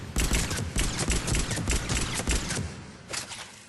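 Rapid bursts of Eagle pistol gunfire from the video game Mass Effect 3, loud, close shots in quick succession, fired steadily for several seconds before tapering off, with no talking.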